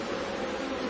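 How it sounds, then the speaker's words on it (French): Bees buzz around an open hive during an inspection: a steady, close, dense drone that holds unbroken throughout with no voices. "Il y a de grandes abeilles."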